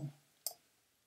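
A single crisp computer mouse click, close and fairly soft, while searching in LabVIEW software, surrounded by near silence.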